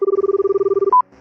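An outgoing phone call rings unanswered with a rapid, evenly pulsed ringback tone that runs close and loud, then a brief steady beep cuts in before near silence.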